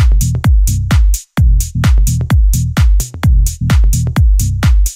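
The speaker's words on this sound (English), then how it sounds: "909 hat loop, which is literally just a 909 hat playing on the downbeat," Bright 909 hi-hat loop for tech house, loud, punchy hits repeating in a tight steady pattern on the downbeat and offbeat, each with a short decaying tail, with no voices.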